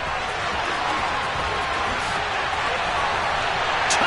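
A stadium crowd in a Madden NFL football game, a Houston Texans wild card matchup, roars steadily in a dense, unbroken wash of cheering.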